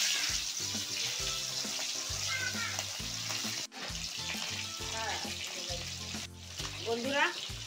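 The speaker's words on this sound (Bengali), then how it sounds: "ওই মাছটা ভেজে নেবো।" Pieces of fish frying in hot oil, a continuous close sizzle with bursts of crackle and some spoon or pan clatter, briefly dipping twice, while low tonal sounds and a faint voice run underneath.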